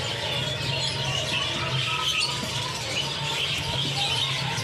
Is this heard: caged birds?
yes